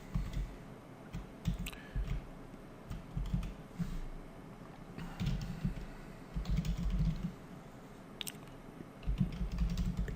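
Code being typed on a computer keyboard, quick irregular bursts of soft key clicks and taps, close and fairly quiet, with short pauses between runs and no talking.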